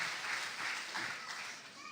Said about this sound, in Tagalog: Sige po yung palakpak para kay Jesus